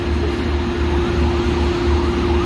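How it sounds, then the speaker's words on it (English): Fire engine siren wailing at a hotel fire scene, a loud steady tone under low rumbling engine noise, continuous with no voices. "I do hear another siren."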